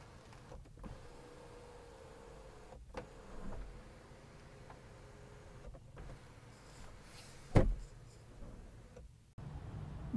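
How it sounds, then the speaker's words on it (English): Power tilt sliding sunroof of a 2016 Infiniti QX50 running, a quiet steady electric motor whir inside the cabin with a few faint clicks and one sharp knock near the end. "power tilt sliding sunroof"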